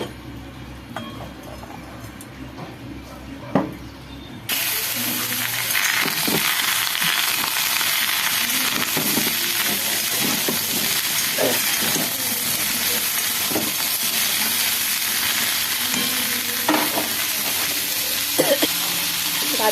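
Food frying in a pan, a loud continuous sizzle starting abruptly a few seconds in after quieter kitchen clatter, with occasional stirring scrapes and knocks.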